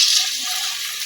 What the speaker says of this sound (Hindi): 1 गिलास पानी ऐड कर रहा हूँ।